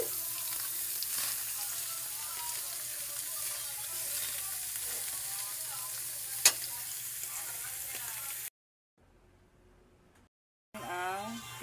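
Fish frying and sizzling in a pan with chili, garlic, onion and ginger, a steady close sizzle that carries on before dropping out briefly, with a short burst of speech near the end.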